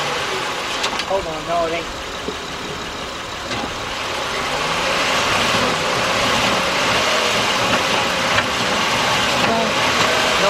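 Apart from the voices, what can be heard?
2004 Honda Accord engine running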